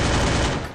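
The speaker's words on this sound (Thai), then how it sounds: "ปรับเสียงกับเสียงปืนนี่ก็ดังเลยเกิน" Loud burst of video-game gunfire from a multiplayer shooter, a dense continuous volley filling the whole moment with no voices over it.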